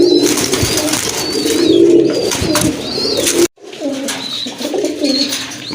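A pair of Chila pigeons coo close by in a loud, repeated, rolling coo, with a few higher chirps from other birds.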